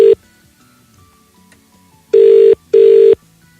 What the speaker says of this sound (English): do you answer your phone after two rings?